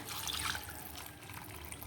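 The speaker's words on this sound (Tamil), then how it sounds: "புளி தண்ணி சேர்க்குறோம்" Tamarind water pours and trickles steadily into a pot of anchovy fish curry, a soft continuous splashing heard close but quietly, with no voices.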